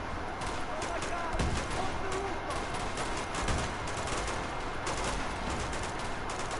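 Dense gunfire in Uncharted 2: Among Thieves, a continuous fusillade of shots with a few sharper bursts standing out over the steady din. A voice talks faintly beneath it throughout.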